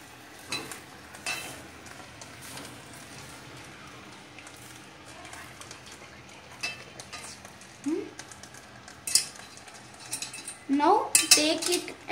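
Okra curry ingredients mixed in a pot, a spoon scraping and clattering against the metal over soft sizzling, growing busier with rapid knocks near the end, with a voice speaking briefly.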